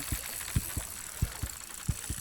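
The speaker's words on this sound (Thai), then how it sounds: "อุ้ยทำไมหัวใจเต้นกันนะโว้ย" Paired low thuds of a heartbeat effect pulse steadily over game ambience in BassMaster Fishing 2022 as a catfish fights on the line, each lub-dub beat clear and fairly close with no talk.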